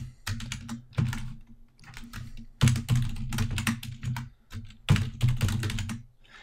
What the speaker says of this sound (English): and you can see as I type this